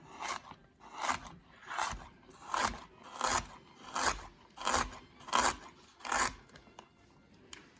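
Knife cutting ginger into thin matchsticks, about ten even crunchy slicing strokes in a steady rhythm, close and moderately loud, with no talk.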